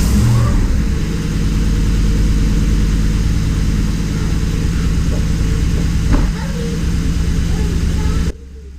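A 2012 Ford Raptor pickup's engine idling after its eight ignition coils were replaced, a close, loud, steady low rumble that cuts off abruptly near the end, with voices speaking over it.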